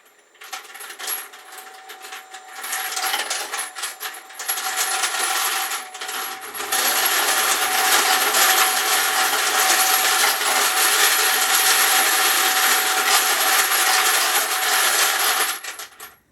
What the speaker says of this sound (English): we'll go ahead and we'll turn this case feeder on, and you guys can see how it runs